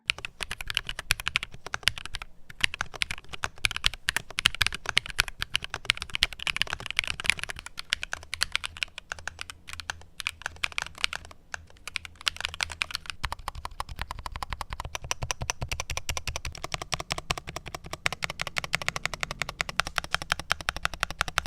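Rapid, steady typing on a NocFree Lite wireless split mechanical keyboard with thocky switches, each keystroke a deep, muted clack, close up with no talking.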